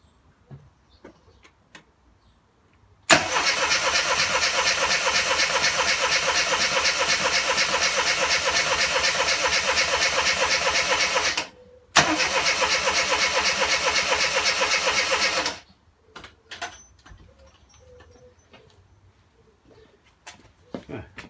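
A classic Mini's standard 998 engine cranks over without firing: a steady, loud starter whirr for about eight seconds, a brief pause, then a second cranking burst of several seconds, followed by scattered quieter noises.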